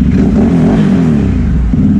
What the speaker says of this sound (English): we got a little sound test here with the new STI exhaust system on there